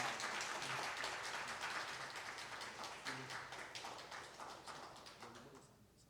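A church congregation gives a big round of applause to welcome an elder, producing fairly faint, steady clapping across the hall that tapers off at the end.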